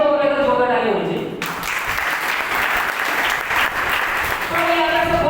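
An audience at an achievers function bursts into loud sustained applause after a pause in speech, with dense clapping filling the room before a voice returns.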